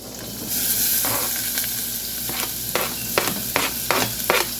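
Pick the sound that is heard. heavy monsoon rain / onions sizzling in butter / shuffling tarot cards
onions sizzling in butter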